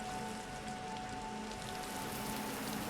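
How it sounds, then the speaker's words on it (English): Steady rain falls outdoors in Resident Evil 2, a continuous soft hiss of drops spread evenly across the scene with a faint tonal hum beneath, no voices. "You can actually hear the rain a little bit more."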